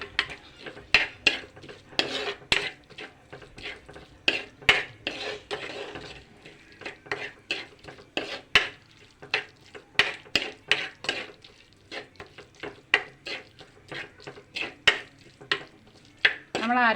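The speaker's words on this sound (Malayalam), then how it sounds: "ഫ്ലെയിം ഓൺ ചെയ്ത് ജസ്റ്റ് ഒന്ന് വഴറ്റിയെടുക്കാൻ പോവുകയാണേ" Crab curry masala is sautéed in a pan over a flame, with rhythmic, close spatula scrapes and clanks against the metal repeating steadily over a soft sizzle.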